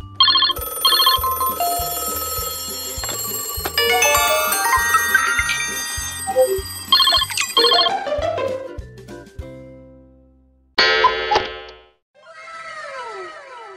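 A Samsung phone ringtone plays a bright electronic melody loudly for about ten seconds, then fades, followed by a brief burst and a few short sweeping chirps.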